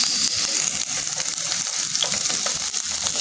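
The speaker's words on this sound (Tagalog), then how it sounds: "Ang init na ating mantika. Nilagyan natin yung bawang natin." Garlic and onion fry in hot oil in a pan, a loud, continuous crackling sizzle with scattered pops, close up and without talk.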